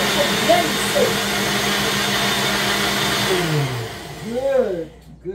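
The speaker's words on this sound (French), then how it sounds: "Je mixe, il faut bien mixer." A kitchen blender runs steadily while blending a milky drink, a loud continuous whir that winds down near the end, with a voice speaking over it.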